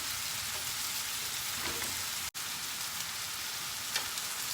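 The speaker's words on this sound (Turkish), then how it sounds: "Domatesimi de kavuruyorum." Steady, even sizzle of tomatoes frying in a pan for sac kavurma, close and continuous with a brief break midway, no talk over it.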